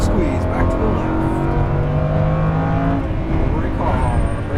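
Lamborghini Huracan LP610-4 engine driven hard on a race track, a loud, steady roar that rises and falls in pitch as the car accelerates and eases off through the corners.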